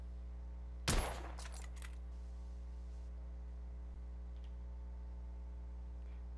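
A single sharp gunshot cracks out in The Order 1886 video game, followed by a quick rattle of echoing debris, then the scene settles into a steady low electronic hum with faint ticks.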